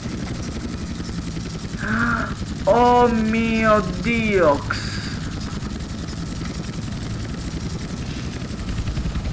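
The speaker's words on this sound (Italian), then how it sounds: "Ma perché non riesco a pilotare questo elicottero di merda?" A helicopter in GTA San Andreas drones steadily throughout with a constant rotor hum, while a man exclaims loudly for a couple of seconds over it.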